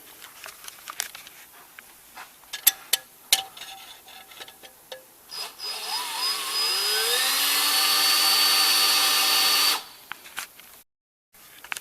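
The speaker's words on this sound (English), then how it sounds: "I need a drill bit that can go here to the other side for what I need." Power drill with a long bit boring a hole through a part on a Cub Cadet 1650 four-wheel-drive tractor build: scattered clicks and taps, then the drill whines up and runs steadily for about four seconds before stopping.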